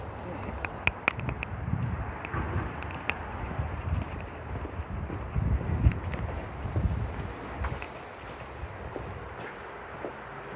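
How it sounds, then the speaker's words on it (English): Strong wind gusts buffet the microphone outdoors at a backyard shooting practice, a continuous low roar that swells and eases in waves, with faint clicks over it. "This wind is just nuts."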